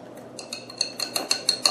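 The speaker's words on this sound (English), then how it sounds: "And just continue mixing this together." A whisk beating an egg and cheese mixture in a bowl, quick light metallic clinks against the side, speeding into a regular rhythm, close and alone.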